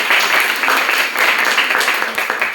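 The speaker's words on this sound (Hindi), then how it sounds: "धन्यवाद मैम के लिए जोरदार तालियां" An audience at a program at Guru Nanak Vidyak Sabha Kanya Inter College applauds, giving a dense, steady wash of many hands clapping together for the full stretch with no voices over it.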